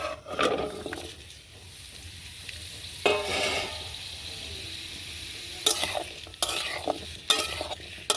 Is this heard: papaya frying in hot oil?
yes